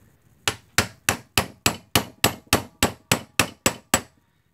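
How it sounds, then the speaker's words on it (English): A punch struck with a hammer, driving a roll pin into the quill shaft of a Shopsmith Mark V while its bearings are replaced: thirteen sharp, evenly spaced metallic blows, close and loud, with no talk. "And then I have a punch that I've made a divot in to help hold that."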